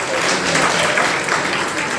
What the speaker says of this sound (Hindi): एक बार जोरदार तालियां बजाइए आप लोग